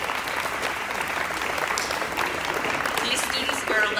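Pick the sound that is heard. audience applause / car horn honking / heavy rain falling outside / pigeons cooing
audience applause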